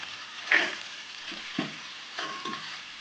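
Ragi vermicelli stirred in a frying pan, with a few soft scraping strokes and light sizzles spaced over a few seconds, close and fairly quiet.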